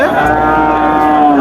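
A cow moos in one long, loud, drawn-out call with a rich harmonic tone, close by at a cattle market, without any talking.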